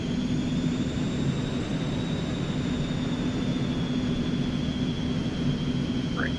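An Eclipse 550 business jet taxies in the X-Plane 11 flight simulator, its engines giving a steady, loud whine with a sustained high tone over a broad rumbling hiss that holds unchanged throughout.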